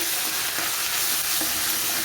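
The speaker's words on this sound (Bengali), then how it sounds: "আদাটাকে আমি কিছুক্ষণ ভেজে নেব" Ginger fries in hot oil, a close, loud and unbroken sizzling hiss with faint stirring, lasting about two seconds.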